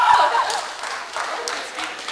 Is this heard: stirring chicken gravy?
no